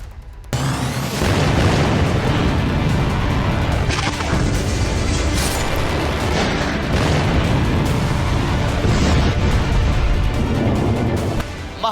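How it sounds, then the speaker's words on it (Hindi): Heavy missile strike explosions from an Iranian attack on Tel Aviv, a dense run of loud booms and crashing blasts that rolls continuously for the whole stretch, with no pauses or talking. "ईरान ने आज तेल अवीव पर 10 मिसाइलों से हमला कर दिया"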